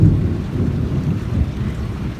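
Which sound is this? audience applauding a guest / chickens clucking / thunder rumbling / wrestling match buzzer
thunder rumbling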